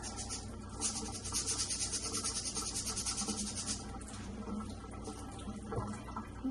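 Water pours steadily into a cooking pot for half a cup of rinsed rice, a continuous close splashing rush that runs for several seconds and then thins out.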